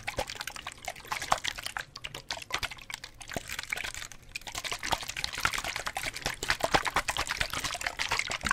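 Water pours and splashes continuously, a bright trickling, bubbling stream with small drips, close by and steady throughout, no voices.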